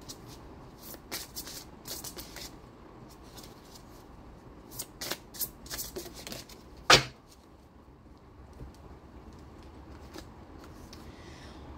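A deck of oracle cards shuffled by hand, scattered soft riffles and card slaps, quiet and close, clustered in two spells with a sharper tap between them and low room noise otherwise.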